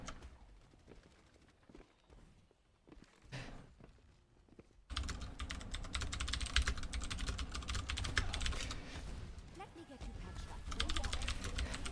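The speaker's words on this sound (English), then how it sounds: "Sorry folks, I had a little bit of a typing incident." Typing on a computer keyboard during a live esports match broadcast: a quiet stretch of faint taps, then a dense steady run of rapid key clatter that continues to the end.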